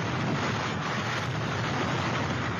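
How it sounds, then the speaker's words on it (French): Hurricane wind roaring across Saint-Martin with gusts near 300 km/h and relentless rain, a steady, deafening broadband rush with no let-up and no voices. "Saint-Martin au plus fort de l'ouragan. On n'entend plus que le vent."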